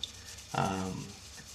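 A single short rubbing stroke of very fine 6,000-grit wet sandpaper across an Italeri 348TB scale model, a soft close swish that rises and fades within half a second against a quiet background.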